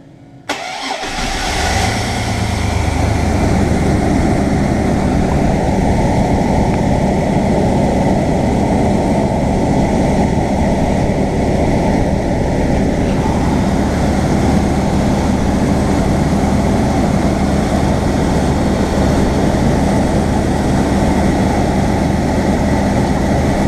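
A V6 car engine cranks briefly on an Antigravity Micro-Start XP-5 jump starter, catches and settles into a loud, steady idle that runs on with a slight rise in revs partway through.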